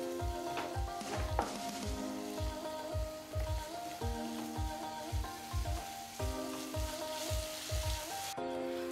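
Ginger, chili and garlic paste sautéing in a pan for chole, a steady sizzle with rhythmic scraping strokes of a spoon stirring it, close and continuous with no talk.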